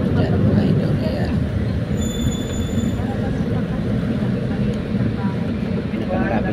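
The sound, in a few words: MRT train arriving, passengers getting off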